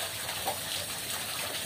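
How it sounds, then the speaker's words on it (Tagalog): A submersible pump runs in a concrete fish pond used for catfish and tilapia, giving a steady, faint watery gush and hiss with no talking. "Tinetesting natin yung ating submersible pump."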